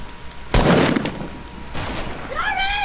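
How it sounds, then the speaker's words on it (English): Gunfire in Fortnite, two sharp bursts of shots, the first louder and closer, the second shorter, followed by a brief electronic chirp, with quiet background in between. "Why are you shooting?"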